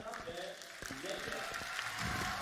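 An esports arena crowd at a Valorant Champions Tour match cheers and applauds, a loud steady roar beneath an excited commentator's voice.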